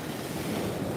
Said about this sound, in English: These are nice waves.